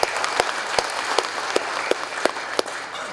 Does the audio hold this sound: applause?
yes